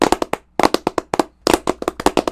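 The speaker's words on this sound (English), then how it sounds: "Round of applause." Close, loud hand clapping in quick bursts of several sharp claps separated by short pauses, from a small group or a single person, with no voices.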